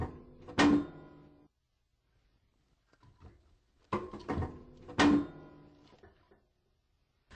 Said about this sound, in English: Now I close the door and set the air control to fully open.